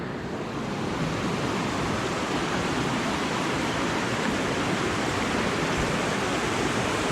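Skinwood Creek rushes beneath a trail bridge in Olympic National Forest, a dense, steady roar of flowing water, loud and unbroken.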